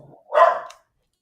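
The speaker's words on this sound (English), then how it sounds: "Dog's going crazy." A single loud, close dog bark bursts out after a moment of faint low rumble, then cuts off into silence.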